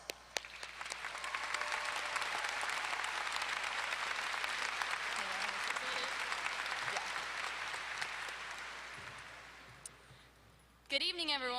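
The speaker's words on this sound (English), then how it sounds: "Please stand for a round of applause." A graduation crowd in a large hall gives the faculty a sustained round of applause, a dense wash of clapping that swells, holds for several seconds and then fades away.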